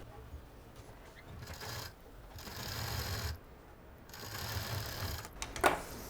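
A sewing machine stitches a cloth face mask with a cap-style seam line, running in steady mechanical bursts with short pauses between runs, close and moderately loud.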